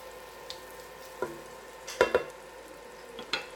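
Onions and garlic sautéing in a pan give a faint, steady sizzle, with a few sharp utensil clinks and scrapes from stirring scattered through it.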